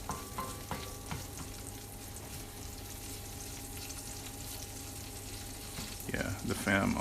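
Garlic frying in an All-Clad pan, a soft continuous sizzle with light stirring clatter that rises near the end.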